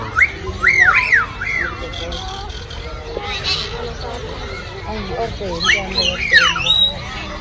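Parrots at Kathmandu Central Zoo, a cockatoo and a macaw, give harsh rising-and-falling squawks in two bursts, near and loud, over a busy background of visitors' chatter.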